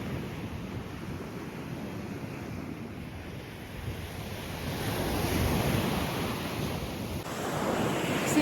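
Ocean waves washing onto a beach beside tall apartment blocks, a steady broad surf roar with wind buffeting the microphone, swelling a little louder toward the end, no voices.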